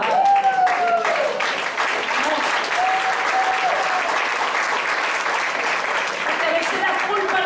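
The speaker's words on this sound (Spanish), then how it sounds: "Un aplauso para papá" Congregation applause at a church healing and deliverance seminar, sustained vigorous clapping from a large crowd filling the whole stretch, loud and even, with faint voices and a short tone mixed in early.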